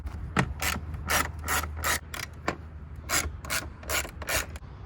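Ratchet wrench turning Torx bolts out of a car bumper on a BMW M235i, a series of short rhythmic clicking bursts close by, alone without talk.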